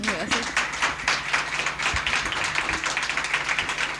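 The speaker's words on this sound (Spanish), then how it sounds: "Le damos un muy fuerte aplauso a Nick Luis." Audience applause welcoming a speaker onto the stage at a Borges literary talk, dense steady clapping that fills the whole stretch at moderate level, with some voices underneath.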